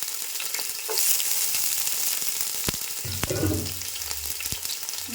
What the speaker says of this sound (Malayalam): ചെറുതാക്കി നുറുക്കി വെച്ചിട്ടുള്ള ഇഞ്ചി ചേർക്കണം